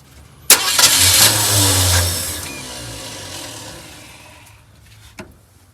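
A 1972 Ford F100 engine starting for the first time in years. A sudden crank catches into a loud, rough rev, then it settles and fades to a faint idle, with a sharp click near the end.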